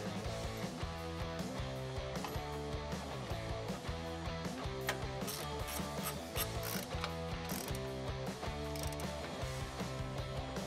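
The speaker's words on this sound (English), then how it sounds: "So let's get that other bolt up and in. And then tighten that as well." Ratchet tightening a bolt on a Ford F-150 Teraflex leveling strut, a long run of rapid, steady clicking that stays close and continuous over a background bed of sound.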